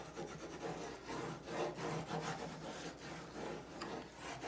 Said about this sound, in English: grab your bone folder and just burnish them together like so